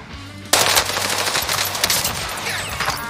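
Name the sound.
machine gun fire in video game Warzone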